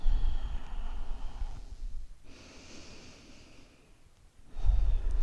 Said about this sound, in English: Breathing in through your nose and out through your nose.